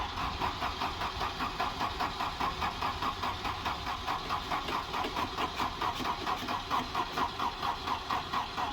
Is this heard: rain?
no